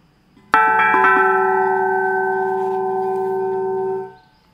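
Struck once sharply with a couple of light follow-up taps, a carbon dioxide cylinder bell with cuts in it rings out in a rich, multi-toned metallic hum that sustains evenly for several seconds before being damped, close and alone.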